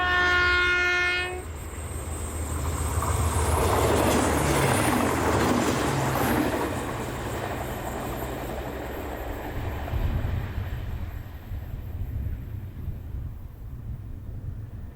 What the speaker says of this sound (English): Class 598 tilting DMUs are also seen. This one forms train IR3901, the 745 from Malaga to Sevilla.